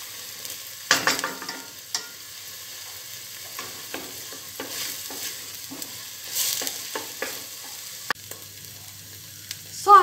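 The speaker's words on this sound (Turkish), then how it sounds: "Bir yemek kaşığı domates salçamı da ilave ediyorum. Tekrardan şöyle güzelce" Onions with tomato paste frying and being stirred in a pot for Turkish sulu köfte, giving a soft sizzle broken by scraping spoon strokes and occasional clinks, fairly quiet and close, with no talking.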